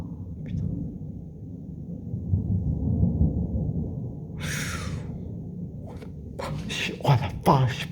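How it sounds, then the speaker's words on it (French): Continuous thunder from a thunderstorm with strong electrical activity rumbles low and steady, with a few sharper crackles toward the end, while people talk excitedly over it. "c'est du tonnerre en continu, là"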